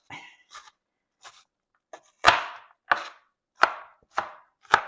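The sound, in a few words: chopping onion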